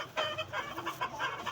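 A red-faced chicken clucks close by in a short series of rhythmic, throaty bursts, fairly loud and alone.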